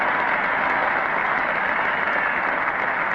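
A cricket crowd at a 1972 England versus Australia Test match applauds a batsman reaching his century, a dense, steady wash of clapping with no voices above it.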